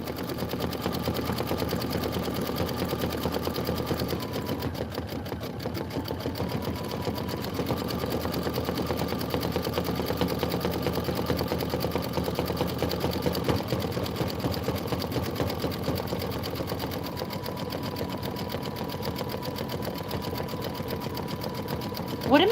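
An embroidery machine runs steadily while stitching around a deer's ears, its rapid needle chatter and motor hum continuous and fairly close, with small changes in pitch as the path turns.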